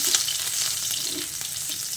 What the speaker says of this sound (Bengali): এবার এই গরম তেলের মধ্যে থেতো করা রসুনটা দিয়ে দিচ্ছি।